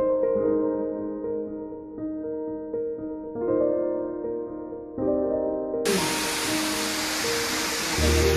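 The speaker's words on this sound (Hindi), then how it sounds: "हमने देख लिया है वाटरफॉल" Abbey Falls in Coorg, running low outside the rainy season, bursts in as a loud, steady rush of falling water in the last few seconds, after a stretch of sustained tonal sound.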